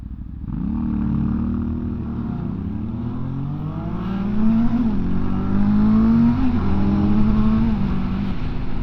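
A 2025 Benda LFC700 cruiser motorcycle's engine while riding, a loud, close, steady drone that rises and falls as the rider works through the revs and gears, pulling away with the pitch climbing.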